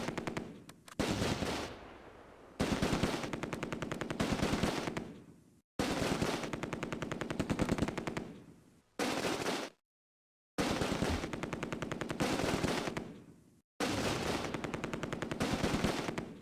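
Heavy machine gun fire in the World War II game Close Combat: A Bridge Too Far at Nijmegen, loud sustained bursts of rapid automatic fire in five long strings separated by brief pauses.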